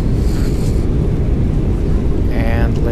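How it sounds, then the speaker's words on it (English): Steady, loud broadband wind roar inside a Boeing 777-300ER cabin with the flaps lowered, a continuous rushing hiss filling the whole stretch with no breaks. "Flaps seem to have gone down because from the wind noise"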